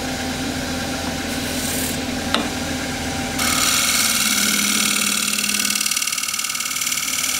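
A woodturning gouge cuts a roughed bowl on a spinning lathe, a steady close rasping scrape that grows louder and brighter partway through as the lower edge of the tool bites in, with a brief tick along the way.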